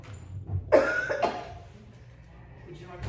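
One person coughs twice in quick succession during a Bible study talk, close and fairly loud, followed by a short quiet stretch with faint room noise.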